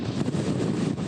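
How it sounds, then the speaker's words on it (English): Strong wind gusts buffeting a microphone on a coastal boardwalk during a live news report, a loud continuous low roar with no break and no speech. "As you're saying that, Joe, we're getting another big gust of wind, and so I am having to brace myself as I'm standing here on the boardwalk"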